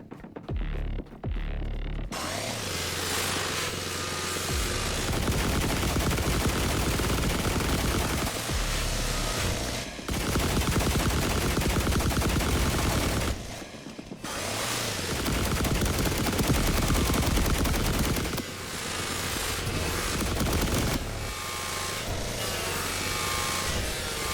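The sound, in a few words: gunfire shooting through walls in video game The Last Caretaker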